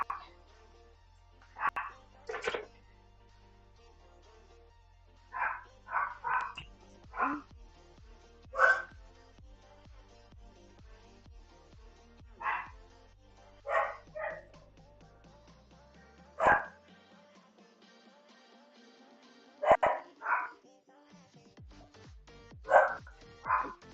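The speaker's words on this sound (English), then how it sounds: "I don't know if you guys can hear the dogs barking." Dogs bark in repeated short bursts, spread irregularly across the span with quiet gaps between, sounding somewhat distant indoors while a low tone shifts underneath.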